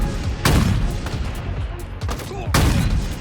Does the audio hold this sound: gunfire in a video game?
yes